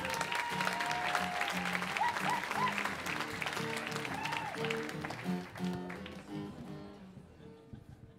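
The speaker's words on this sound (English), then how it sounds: "Big round of applause for Brad" An audience at The Moth storytelling event applauds as storyteller Brad Lawrence comes up, steady crowd clapping with music playing underneath, fading toward the end.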